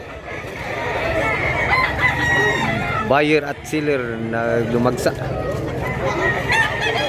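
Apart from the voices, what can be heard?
chickens and roosters crowing at a market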